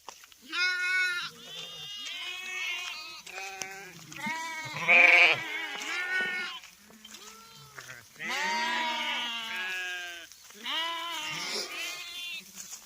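A flock of sheep bleats repeatedly on the way to drink water in a village, loud close calls overlapping one another in bursts with short pauses between.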